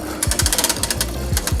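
A Trek bicycle chain rubs against the front derailleur in the small chainring, giving a quick, rhythmic ticking scrape that repeats with each turn of the cranks, close and steady with no talking.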